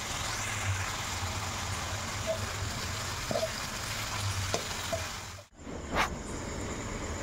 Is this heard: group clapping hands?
no